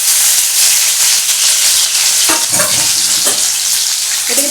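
Chopped tomato, minced garlic and green chili dropped into hot oil, sizzling loudly with a constant frying hiss and a few sharper spatters and stirring scrapes as the pan is worked.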